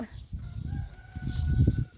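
A chicken clucks close by in a quick series of short, throaty clucks that grow busier and louder toward the end, with no voices over them.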